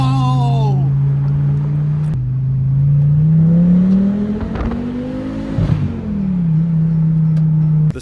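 A Volvo V70R engine revs hard and accelerates, its pitch climbing and dipping through shifts at close range, loud and steady for about eight seconds with no voices over it.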